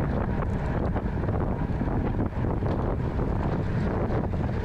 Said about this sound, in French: il y a quand même énormément de vent de face. On peut l'entendre.